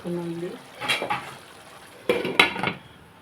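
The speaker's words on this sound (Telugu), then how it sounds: "ఇదిగోండి ఉడుగుతూ ఉంది ఆయిల్" Oil heating in a pan for an egg and dried fish curry, with a few scraping clatters of a utensil against the pan over a soft sizzle, close and moderately loud in bursts.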